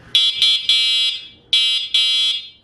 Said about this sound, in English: That's the freaking horn, dude.